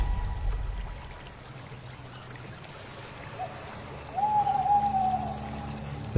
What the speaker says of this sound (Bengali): রাতচরা পাখিটা আজ যেন পণ করেছে নদী আর তার সহচর জঙ্গলকে তার ডাক শোনাবেই।